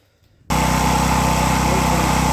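An ISKRA BLD3300I 3000/3300 W petrol generator starts up. Near-silence gives way abruptly to a loud, steady, close-up running drone that holds evenly to the end.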